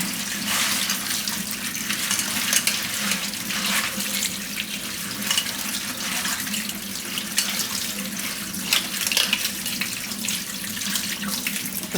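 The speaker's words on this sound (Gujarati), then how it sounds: "એને કોઈ પણ એક આ રીતનું જારીવાળું વાસણ લઈને એમાં લઈ લેવું અને ધોઈ નાખશું" Water runs from a kitchen tap onto flattened rice (poha) held in a strainer, a steady splashing gush that continues close and unbroken while the grains are rinsed.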